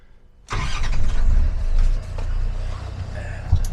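Land Rover 130 Defender engine cranking and firing up after a quiet moment, then settling into a loud, rough idle close by outdoors on private land.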